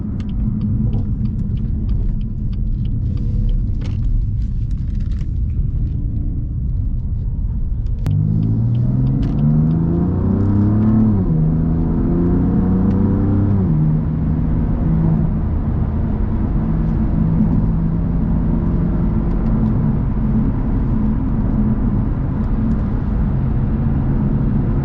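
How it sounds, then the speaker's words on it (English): A 2018 BMW M3 Competition F80 with DCT in Sport Plus mode: deep, loud exhaust rumble from inside the car, a rising run of revs through the gears midway, then a steadier droning burble, with no talking. "the Sport Plus mode really gives it that exaggerated exhaust sound with the burbles"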